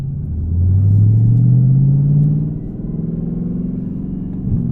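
Chevrolet ZL1 Camaro V8 idling and rumbling as it rolls out before a launch-control run, a loud, close low growl that swells for a couple of seconds and then settles back to a steady burble.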